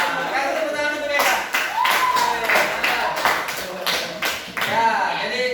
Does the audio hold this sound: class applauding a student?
yes